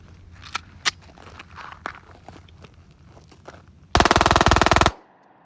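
An airsoft Glock G26 pistol on a P80 frame with a binary trigger fires a loud, fast, close burst of about a dozen shots lasting roughly a second, after a few scattered clicks and handling sounds.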